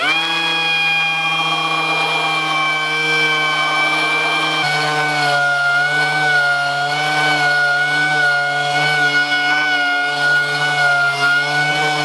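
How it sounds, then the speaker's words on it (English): A dual-action sander works over the contours of a fabricated front bumper, giving a steady, loud motor whine with sustained tonal harmonics that shift slightly in pitch partway through, running alone without talk. "I'm going to come back with the DA and follow all these contours"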